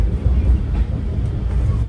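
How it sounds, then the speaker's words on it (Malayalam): An express train pulls into Kayamkulam Junction in Kerala, heard as a loud, steady low rumble of wheels and carriages close by, with no clear breaks or announcements. "ട്രെയിൻ ഇപ്പോൾ കായംകുളം ജംഗ്ഷനിലെത്തി."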